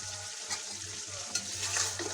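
Country chicken being stirred in a pan with ripe tomatoes: a soft, fairly faint sizzle with low scraping strokes, alone and close.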